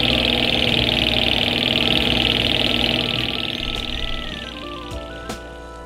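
A small Stirling engine with a DC generator runs on candle heat. Its steady mechanical hum and whir are close and fairly loud, then fade and wind down near the end.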